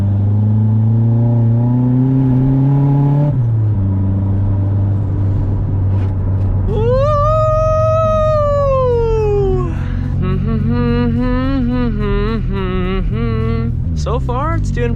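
A turbocharged front-wheel-drive Honda Civic on all-season tires drives through a snowstorm, its engine droning and revving steadily up close inside the cabin while rising and falling whistle-like tones sound over it.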